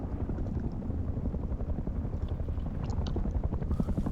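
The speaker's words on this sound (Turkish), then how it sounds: "Helikopter de tam zamanında geldi." A helicopter flies overhead in the video game Rust, a steady, loud rotor rumble and drone that fills the whole clip with no talking.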